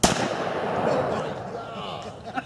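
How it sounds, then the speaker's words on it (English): A single loud Smith & Wesson 500 revolver shot cracks outdoors at the very start, its blast striking a tree and rolling away in a long, reverberant echo. "I think you shot the tree."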